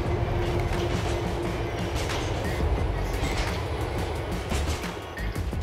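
A train rolls past in GTA The Ballad of Gay Tony, a loud continuous rumble with rattling wagons and faint wheel clatter filling the whole stretch, no talking.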